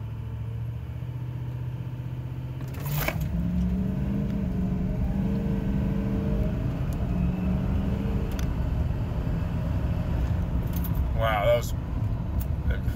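A 2017 GMC Denali HD pickup with a Duramax diesel engine accelerates under boost, a steady loud low engine drone rising in pitch after a brief idle, with a faint voice over it.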